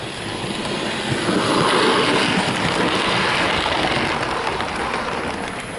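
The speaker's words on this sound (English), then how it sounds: "Now we come on to the loaded test run, and so I've dragged out these 3 Mornsel coaches to run behind the E4." A Bachmann Class E4 model locomotive in LBSC umber livery pulls three Maunsell coaches along the track, a steady close rumbling and rushing roll that holds evenly throughout with no voices.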